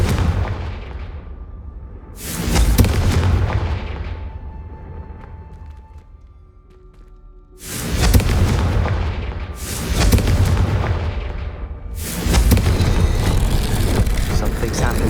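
Several heavy booming explosions from the Confringo spell in the video game Hogwarts Legacy, four or five loud blasts with long rumbling decays and a quieter gap between the first and the later burst of hits.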